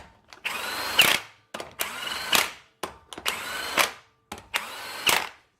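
Power tool tightening the wheel lug nuts on a Chevrolet Tahoe during a front brake pad job, heard as four close, loud bursts of whirring and rattling, each about a second long, separated by brief pauses.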